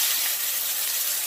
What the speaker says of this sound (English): you put a lid on it because that's going to steam for now 5 minutes